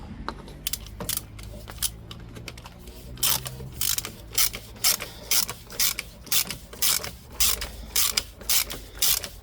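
A hand ratchet clicks in short rhythmic bursts while screwing an oil drain plug back into a Peugeot 207 SW 1.6 HDi, the sharp ticks close and loud with brief pauses between strokes.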